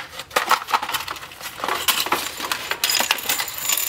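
Plastic game tokens and coins from a Marvel Battleworld Series 2 Funko set clink and rattle together in quick, bright, irregular clicks, close up and fairly loud throughout, with no talking.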